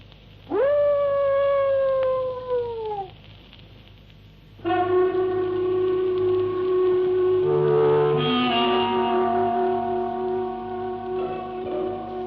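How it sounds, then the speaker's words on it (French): Radio drama dog effect with a long mournful howl, a short pause, then a second drawn-out howl that wavers as it fades, loud and close with no talk over it. "Entrons vite, il y a un chien qui nous a repérés."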